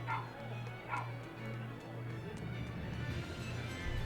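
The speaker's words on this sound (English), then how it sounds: "I can hear the dog barking in the background" Dog barking in the video game Tales of Berseria, a few short yips and barks in the background over a steady low game ambience.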